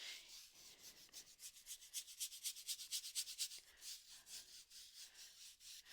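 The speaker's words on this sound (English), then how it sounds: "just scrub that paint into the texture of the canvas" A paintbrush scrubs liquid white paint into the texture of a canvas, faint close rhythmic swishing strokes repeating in quick back-and-forth bursts, no voices.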